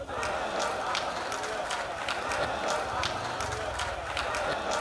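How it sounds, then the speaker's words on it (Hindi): An audience at a kavi sammelan poetry recital in Katni, Madhya Pradesh, claps steadily, a thick wash of applause with sharper individual claps poking through. "अभी तालियां कमजोर थी"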